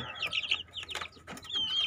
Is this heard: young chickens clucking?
yes